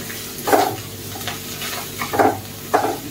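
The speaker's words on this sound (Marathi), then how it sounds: "आता यामध्ये बारीक चिरून घेतलेली कोथिंबीर टाकून घेऊ. मिक्स करून घेऊ." A spoon scrapes and stirs through finely chopped coriander in a kadhai, several short scraping strokes over a soft background sizzle.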